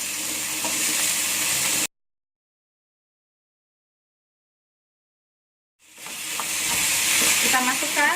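Potatoes frying and being stirred in a pan for a tuna curry filling, a steady close sizzle that cuts out abruptly and returns with scraping stirs and crackling.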